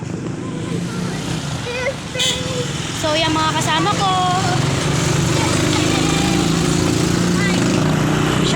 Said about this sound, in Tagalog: madaming kotse dito at sasakyan